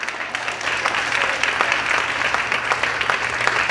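A church congregation claps steadily together, dense, even applause filling the room for a few seconds with a low hum beneath.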